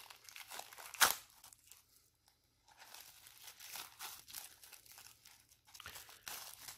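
Paper origami puzzle sheets are folded and handled close up: one sharp crackling crease opens the sound, followed by a pause and then repeated soft rustles and crinkles.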